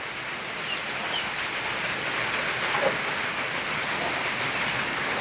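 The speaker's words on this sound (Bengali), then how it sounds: "যে প্রচণ্ড পরিমাণের বৃষ্টি বাহিরে যাওয়া যাচ্ছে না" Heavy rain pours outside in a dense, steady roar that lasts the whole stretch without a break, loud and enveloping, with no voices.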